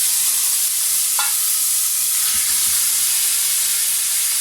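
Cumin, curry leaves and finely chopped tomatoes sizzling loudly in hot oil for lentil tempering, a constant bright hiss with a brief clink and stir partway through, close and alone.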